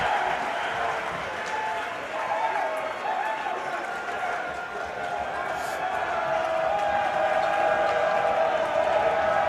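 Dense, steady crowd noise fills a high school boys varsity basketball gym during free throws, a continuous roar of voices and cheering with a commentator talking over it.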